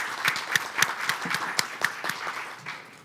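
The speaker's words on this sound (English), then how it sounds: "give this first set of panelists a round of" An audience applauds panelists at a walkability institute event, with distinct, fairly sparse claps from a small room of people, steady at first and then tapering off.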